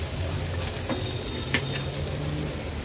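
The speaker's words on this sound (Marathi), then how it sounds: "आता आपण ह्याच्यात खवलेलं ओलं खोबरं घालूया।" Grated fresh coconut fries in a little melted ghee in a wok, giving a steady, soft sizzle throughout with a few faint scrapes.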